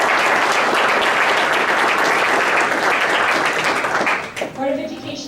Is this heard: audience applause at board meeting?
yes